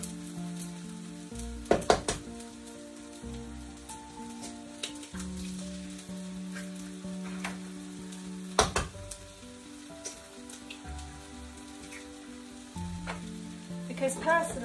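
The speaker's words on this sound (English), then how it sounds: "I tend to move the rice all over to one side, which gives me the other half to cook the eggs in." Eggs fry in a pan beside fried rice for an all-day breakfast dish, a steady close sizzle with a few sharp scraping clatters of a utensil against the pan.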